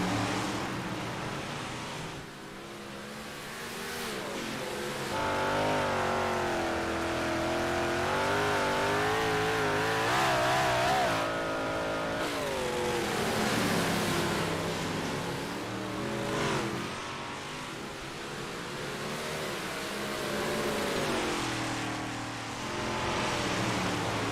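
Big block modified race cars roar around the track in a sim racing game during a heat race, a dense layered engine drone with shifting pitch as several cars run close together, loud and continuous throughout.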